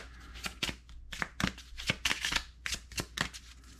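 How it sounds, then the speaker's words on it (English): A deck of flight cards for a Ju 87 Stuka Ace solo board game being shuffled by hand, with several crisp riffling bursts separated by short pauses, close and fairly loud with no talking. "I need to shuffle the deck"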